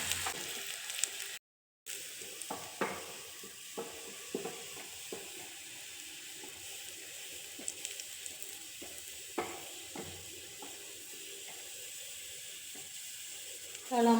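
Onions or spices sautéing in a pan for a country-style Nang fish curry give a steady close sizzle with frequent spatula scrapes and stirring clicks, broken by a brief silent gap early on; no one talks.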